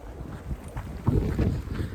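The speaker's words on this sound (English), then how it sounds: "it's windy and kind of warm" Gusty wind buffets the microphone outdoors on a hiking trail, a low rumbling roar that swells and surges in uneven bursts, loudest midway through. There is no talk.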